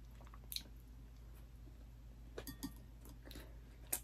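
Someone chewing food while eating lunch: soft, wet squishing bites and a few faint clinks of cutlery, close to the mic over a quiet background hum.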